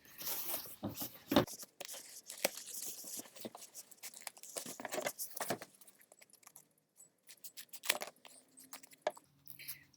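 Blades cut through camp pad foam at close range, giving irregular bursts of scraping, tearing and crunching with brief quiet gaps between cuts.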